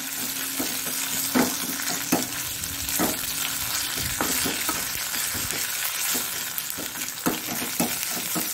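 Garlic and chili sizzle in hot oil for a Tulunadu-style bottle gourd and bimbli sambar, a steady frying hiss broken by irregular scraping stirs and clinks.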